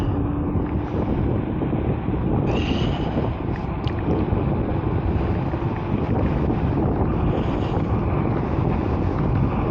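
A TIFGALOP K8 6000W electric scooter on a gentle takeoff in P2 turbo with a single motor, heard as steady, loud wind rush and road roar across the whole stretch with a faint motor whine, no voices.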